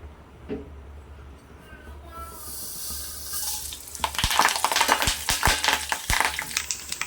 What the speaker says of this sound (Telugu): ఆయిల్ హీట్ అవుతుంది మనకి పోపు కావాల్సిన జీలకర్ర ఆవాలు కరివేపాకు ఎండుమిర్చి వెల్లుల్లిపాయలు యాడ్ చేసుకుందాం